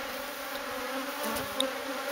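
Swarm of bees buzzing steadily around a beehive being removed from a metal drum, a dense continuous drone close by with no talking.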